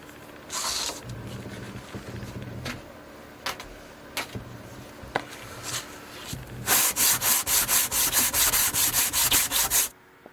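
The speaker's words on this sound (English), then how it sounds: "Now I'm just trying to get these last couple indents out using the 60 grit sandpaper." A stone scarab carving is sanded by hand with coarse 60 grit sandpaper, giving scattered short scrapes early on, then a run of loud, even rhythmic rubbing strokes close to the microphone near the end.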